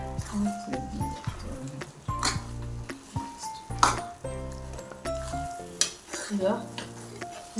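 A pumpkin and broad bean curry with ground coconut paste is stirred in a pan over heat, giving repeated scraping, stirring strokes over a soft sizzle.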